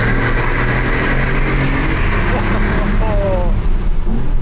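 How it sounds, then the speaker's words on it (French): BMW i8 with a three-cylinder engine on the streets of Monaco, a steady loud engine drone with low rumble filling the whole stretch, heard beneath voices of people talking nearby. "ce que vous venez d'entendre c'est un 3 cylindres"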